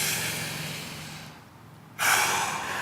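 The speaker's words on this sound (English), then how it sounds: "make sure you're also breathing." Heavy, audible breaths during calf self-massage: a long loud exhale that fades into a brief quiet pause, then a sharp, strong inhale, close to the microphone.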